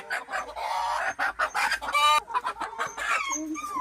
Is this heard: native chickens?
yes